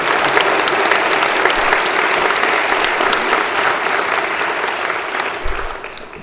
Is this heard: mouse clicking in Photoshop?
no